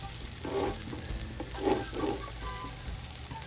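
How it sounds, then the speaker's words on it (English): Broccoli and carrots sauté in a hot pan with a soft, steady sizzle, broken by a few short bursts of stirring and scraping at close range. "Alright, sauteing."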